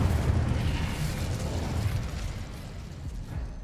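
A fiery Incendio spell cast in a wizarding video game, a dense, sustained burst of rumbling roar and crackle heard up close and fairly loud for a few seconds, slowly easing toward the end.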